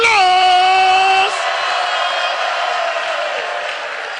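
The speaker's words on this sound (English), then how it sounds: "Let's hear a round of applause" An audience at a youth dialogue event in Ghana's Central Region breaks into steady applause after a few sustained tones fade. The clapping carries on as a dense, even wash, easing slightly toward the end.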